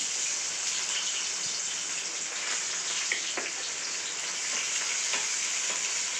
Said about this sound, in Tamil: கடுகு பொரிஞ்ச உடனே வெங்காயம், ஒரு பெரிய வெங்காயம் அரிஞ்சு வச்சுருந்து போட்டுக்கணும்